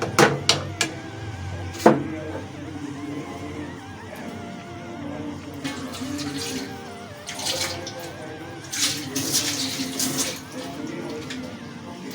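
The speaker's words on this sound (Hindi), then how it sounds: "थोड़ा सा पानी डालेंगे।" Water splashes and trickles into a pot of spiced potato and spinach curry amid clattering kitchen sounds and a few sharp knocks, steady running water for several seconds.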